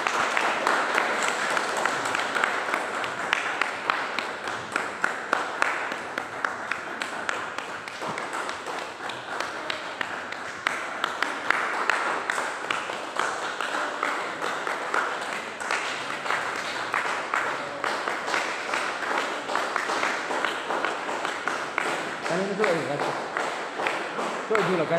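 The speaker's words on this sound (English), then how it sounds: "Clap, clap." Spectators clapping at a badminton tournament in Ziro, Arunachal Pradesh, a long stretch of scattered, continuous hand claps and taps in a busy hall, with voices and crowd murmur underneath.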